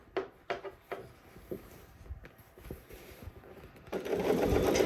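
A sewing machine stitching a seam on a shirt collar, starting with a few sharp clicks and short bursts, then running steadily and louder near the end.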